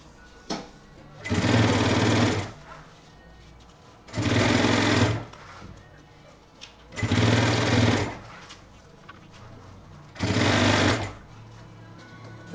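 A sewing machine stitches a men's backpack in four even bursts of roughly a second each, separated by short quiet pauses, loud and close with a steady motor whir.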